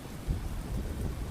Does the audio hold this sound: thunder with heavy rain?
yes